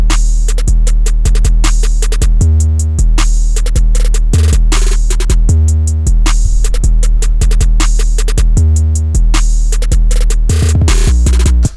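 Hard trap beat built in FL Studio: booming 808 bass, steady ticking hi-hats, a repeating clap and rapid bouncy snare rolls that recur every couple of seconds, loud and dense throughout with no voice.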